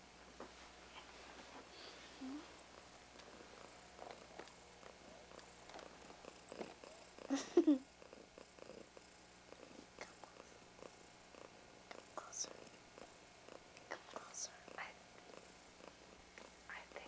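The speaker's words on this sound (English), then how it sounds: "He purrs so loud" A cat purrs close by in a quiet room, a soft continuous rhythmic rumble that goes on throughout, with a few brief faint rustles and small noises over it.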